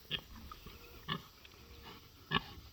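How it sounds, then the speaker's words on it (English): A boar pig on a farm gives three short, low grunts spaced about a second apart, close by with a quiet outdoor background. "this is our boar pig"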